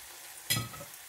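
Fish braising in a frying pan, a short burst of sizzle and scraping as the pieces are turned over, rising suddenly then settling into a quieter crackle.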